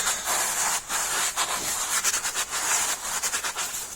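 A rag wipes a wheel hub surface clean and dry on a 2009 VW Polo during an ABS hub bearing swap, giving close, repeated rubbing strokes in an uneven rhythm.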